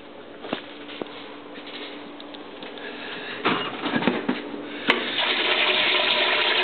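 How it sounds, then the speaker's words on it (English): A washing machine tub filling with water during a load of laundry, a steady rushing flow of water that swells louder toward the end, with a few knocks and clunks along the way. "You fill the wash tub up a little bit"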